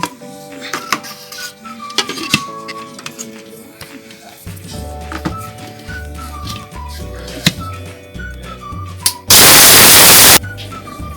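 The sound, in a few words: mixer grinder grinding turmeric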